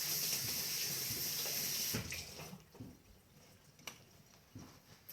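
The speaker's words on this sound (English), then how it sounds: "I'm going to give my hands another quick wash." Hands being washed under a running kitchen tap, steady splashing water for about two seconds, then the flow stops and a few soft drips and splashes follow, fairly quiet and close.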